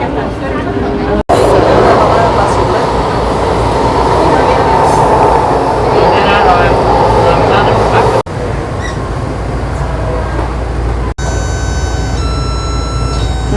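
Subway train rumbling along from inside the carriage, a loud continuous roll with rail noise and faint squeal, broken by abrupt cuts, with people talking in the background.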